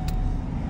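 A 2013-2018 Ford Focus engine running close up: a brief, steady, low rumble without speech.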